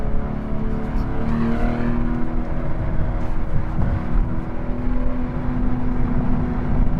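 A BMW M240i accelerates on the road, its engine a loud, steady rumble with a faint rising tone under broadband road and wind noise.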